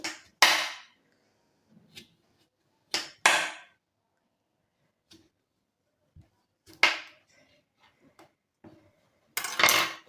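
A knife chopping a peeled sweet pumpkin into pieces on a board, several sharp separate cuts and knocks spaced irregularly, close and clear with near-silence between strikes.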